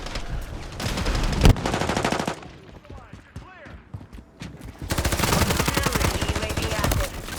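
Rapid automatic gunfire and shot bursts from Call of Duty Modern Warfare 3 gameplay, loud in two dense stretches with a quieter gap between, a voice talking over the shooting.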